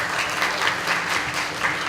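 A conference audience at a Ruby programming talk claps steadily for a couple of seconds, a dense roomful of applause without voices.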